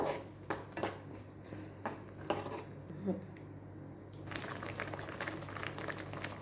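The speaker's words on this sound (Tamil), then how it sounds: "லோ ஃப்ளேமில் ஒரு 2லேருந்து 3 நிமிஷம் நல்லா கொதிக்க விடலாம்" Thick spicy kara chutney bubbles and pops gently in a pan on low flame, with a few clinks of utensils early on and a soft hiss rising toward the end.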